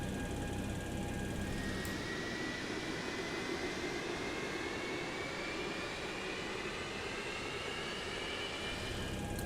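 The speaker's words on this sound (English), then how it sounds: "So we have now the engine number 3 starting." Engine number 3 of a Boeing 727 spools up in the X-Plane flight simulator, a continuous loud jet roar and whine with thin tones creeping slowly upward, steady and unbroken with no talking.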